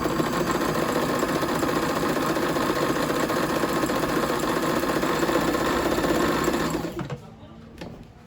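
A Japanese-made Singer Fitline sewing machine stitches zigzag at a short stitch length: a loud, steady, rapid mechanical whirr runs for about seven seconds, then stops abruptly, leaving only faint room noise.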